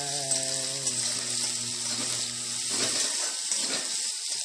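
Chopped onions and green chilies sizzle and hiss steadily in hot oil, close up, with a low hum fading out partway through.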